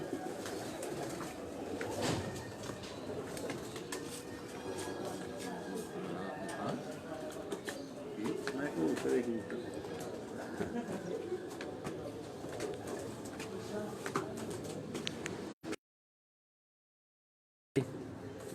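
Pigeons coo softly at a farmhouse pigeon loft amid a busy background of rustling and chatter, with a brief cut to silence near the end.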